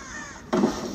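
Crows in a video game give a single loud, harsh caw that cuts in abruptly over a quiet background.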